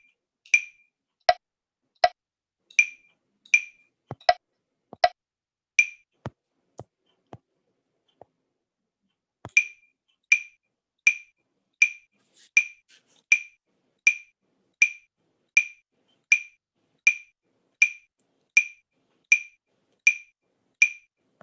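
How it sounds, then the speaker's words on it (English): A metronome clicks at 80 beats per minute in a 4/4 pattern: sharp, evenly spaced ticks, with a short pause partway through before the steady clicking resumes. The clicks are close and clear against silence. "So what you just heard is a 4x4 pattern at 80 beats per minute."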